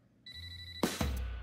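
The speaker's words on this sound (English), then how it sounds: "Was that my phone?" A mobile phone rings indoors, a thin steady tone followed by a louder ringtone burst with a couple of sharp onsets, fairly close and without any talk.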